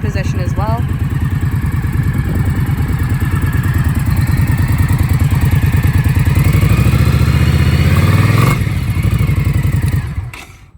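A 2018 Indian Scout Sixty motorcycle engine fires up and settles into a steady, low thumping idle, close and fairly loud, then cuts off near the end.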